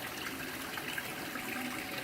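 Water runs steadily into a nutrient tub in an aquaponics system, a constant broadband rushing and gushing with no pauses or voices.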